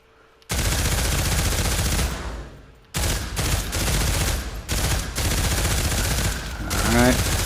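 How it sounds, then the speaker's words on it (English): A SAW machine gun fires in Pavlov VR on PSVR2 in long, loud sustained bursts, broken by short gaps near the start and middle, with a few rattling mechanical clicks toward the end. "Alright, here's a saw. It's a machine gun."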